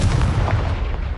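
A Confringo blasting spell explodes in Hogwarts Legacy, a single loud, booming blast with a deep rumbling body that fades quickly.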